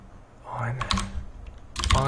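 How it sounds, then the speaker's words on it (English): Loud computer keyboard typing in bursts of rapid key clacks during a game development session, close to the mic, with some talking mixed in. "my keyboard is very loud"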